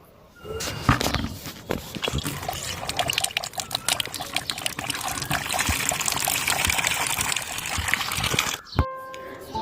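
Water runs into a bucket set out for watering plants at home: a steady splashing trickle starts after a second, continues for about eight seconds, then cuts off abruptly.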